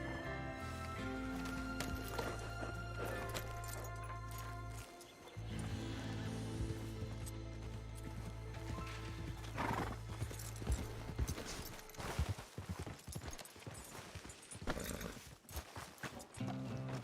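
Horse sounds from the Goldrush RP video game, with clip-clop hooves and whinnies over a constant layer of game music and ambience, loud and steady throughout, with denser bursts of activity toward the end.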